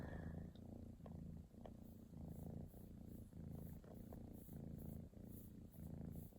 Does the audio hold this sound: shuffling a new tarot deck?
no